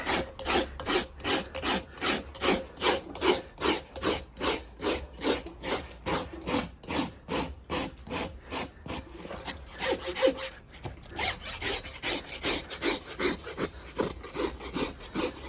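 A farrier rasps the heel quarters of a horse's hoof, thinning a flat foot with thin soles, in a long steady series of rhythmic back-and-forth scraping strokes, loud and close with no talk.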